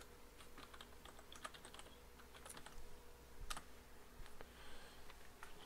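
Commands typed on a computer keyboard while configuring Windows Server shadow copy storage: a steady run of light, quick key clicks with a few louder taps, close and quiet, no talking.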